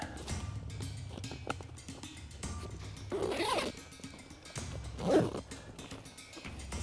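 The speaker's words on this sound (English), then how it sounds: "Let's go ahead and zipper it up." An Eberlestock Halftrack backpack is zipped shut in two quick, close rasping pulls a couple of seconds apart, with quiet handling noise between them and no talking.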